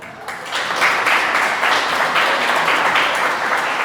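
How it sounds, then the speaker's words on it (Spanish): Church congregation applauding, a dense sustained wash of many hands clapping together at fairly high level, steady for several seconds. "Un aplauso a Dios por nuestros hijos."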